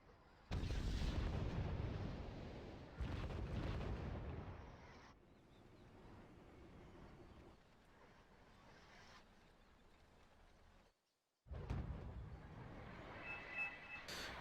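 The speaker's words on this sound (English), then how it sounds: "they're bombarding us with cluster bomb" Cluster bomb bombardment in the strategy game Wargame Red Dragon: heavy booming blasts and rumbling explosions in successive waves, loud and dense at first, fading to distant rumbles, then a fresh burst after a brief silence.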